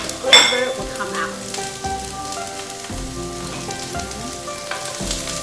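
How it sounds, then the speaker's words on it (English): Chopped onion sautéing in a pan for a French-style chicken stew, a close, continuous crackling sizzle with occasional clinks and scrapes of stirring. "So I'm gonna just saute it so that it's nice and soft"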